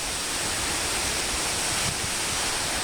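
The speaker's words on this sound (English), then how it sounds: "Look how crazy the water's getting." Rough lake water churns with dense, continuous wave wash and wind-driven surf, steady and fairly loud with no voices.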